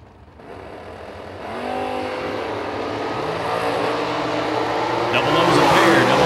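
A station wagon and a dragster launch side by side at a drag strip during The Million race. The engine roar climbs steadily and grows louder over several seconds, with an announcer's voice running over it.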